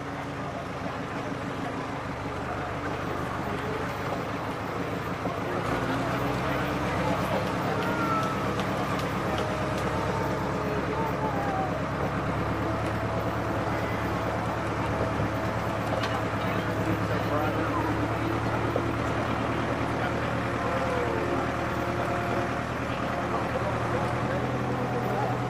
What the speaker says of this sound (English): just fired up the tractor